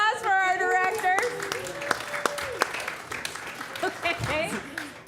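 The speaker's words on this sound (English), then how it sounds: "A round of applause for our directors." An audience at a theatre showcase applauds the directors: loud cheering voices open the clip, then scattered claps and crowd noise fade gradually over several seconds.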